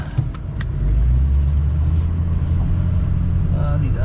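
A 2006 Ford F350 4x4 Lariat diesel pickup drives along a potholed road, its engine a loud, steady low rumble heard up close from inside the cab.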